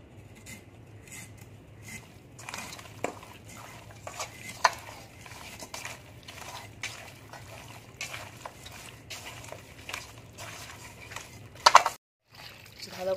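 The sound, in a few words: hand-mixing chicken with salt, turmeric, chili powder and mustard oil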